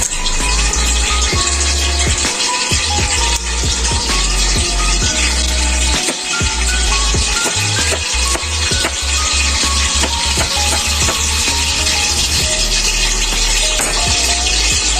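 Cooking oil heating in a pan for Filipino bopis, giving a steady, loud broadband sizzle and bubbling hiss that runs the whole time, with scattered clicks and knocks from utensils and no talk.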